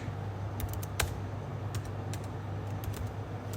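Quiet keystrokes on a computer keyboard while entering resume text: scattered, irregular clicks over a low steady hum, close and fairly soft, with no talking.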